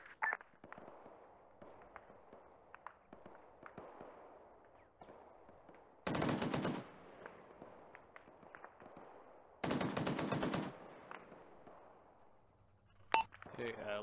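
Machine-gun fire in a video game attack, heard as two loud sustained bursts of rapid shots with scattered lighter pops and a sharp single crack near the end over a dim background.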